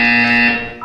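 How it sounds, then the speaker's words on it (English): A loud electronic buzzer in the Portal 2 video game sounds once as a steady harmonic tone lasting almost a second, then fades out, with no talking. "When you hear the buzzer, look up at the ceiling."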